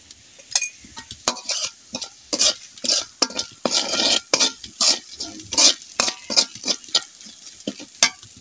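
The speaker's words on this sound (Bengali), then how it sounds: "হাফ চা চামচ ধনিয়া গুঁড়া, হালকা একটু ভেজে নিচ্ছি।" Half a teaspoon of coriander powder lightly fried in a pan while being stirred, with repeated scraping strokes of a spoon against the pan in an uneven rhythm over a soft sizzle, close and clear, with no voices.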